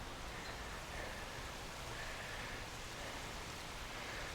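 Steady, soft outdoor rain falling in Raleigh, North Carolina, a continuous even hiss of drops with no voices or other sounds over it.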